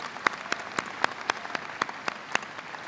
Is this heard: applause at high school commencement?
yes